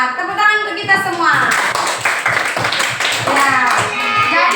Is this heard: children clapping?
yes